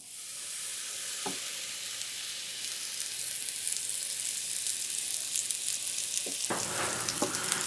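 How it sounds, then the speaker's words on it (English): Beef patties sizzle loudly and steadily on a hot griddle, a dense continuous frying hiss with a couple of brief clicks of utensils, no voices. "Go ahead and throw the patties on."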